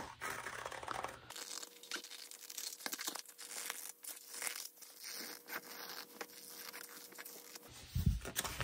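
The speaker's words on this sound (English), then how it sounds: "And then I just start cutting out my circle shape." Fabric scissors snip and crunch through fabric while cutting out a circle for a Dresden quilt center, a close, quiet series of crisp cuts and crinkles in steady rhythm, with a louder rustle near the end.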